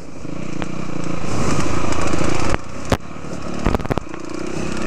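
A dirt bike rides a rocky trail by a dry riverbed in Hawaii, its engine droning and climbing in pitch as it accelerates, close and fairly loud, with sharp knocks and clatters from rocks near the end.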